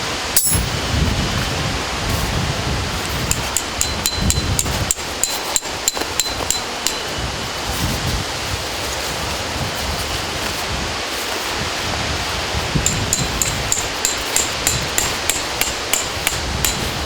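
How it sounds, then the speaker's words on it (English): Metal tent pegs are hammered into the ground to pitch a Snow Peak hexa tarp, a series of sharp, ringing outdoor strikes, loose at first and then a quicker regular run near the end, with wind in the background. "just hammer those in"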